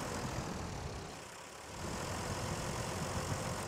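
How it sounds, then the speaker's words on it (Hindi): A cabin tractor's engine idles on a farm, a steady, loud, low rumble that dips briefly in the middle before settling back to an even drone, with no voices. "कैबिन वाला ट्रैक्टर ले लिया मैंने"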